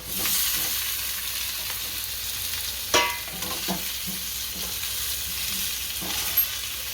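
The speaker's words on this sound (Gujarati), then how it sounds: "હવે આપણા બટેકા નાખશું" Potatoes frying in a pan with turmeric for a Gujarati dry potato bhaji, a steady close sizzle broken by a few sharp spoon clinks and scraping stirs.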